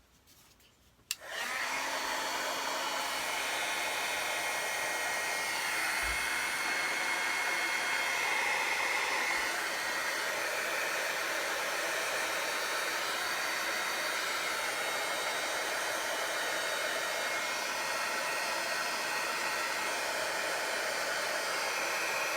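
A hair dryer blowing steadily to dry chalk paste on a craft project, switching on with a sharp start and then holding a loud, continuous whooshing roar close by for the rest of the stretch.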